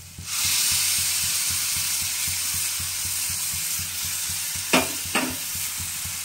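Roasted, mashed eggplant and tomato hit a hot oiled pan with a loud sudden sizzle that settles into a steady hiss, with a couple of brief utensil scrapes near the end.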